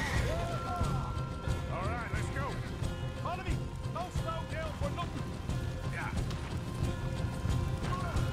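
Horse hooves clip-clop in Red Dead Redemption 2, a steady trotting rhythm under game voices and background sound effects.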